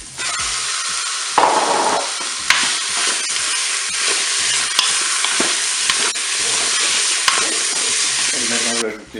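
Beef added to a hot Cookeo pot, sizzling and frying loudly with repeated stirring scrapes and knocks of a utensil against the pot, close and continuous.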